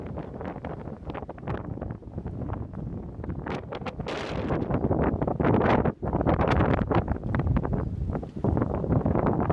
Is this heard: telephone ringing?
no